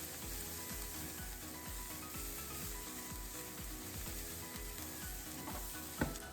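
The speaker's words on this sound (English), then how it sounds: "Then, mix everything and fry again." Taco rice mixture fries in a pan, a steady close sizzle with repeated scraping stir strokes and one sharp clink near the end, no voices.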